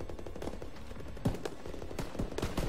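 Gunfire in a Call of Duty WWII battle against German troops, rapid faint bursts of machine-gun shots crackling at a distance in an irregular rhythm.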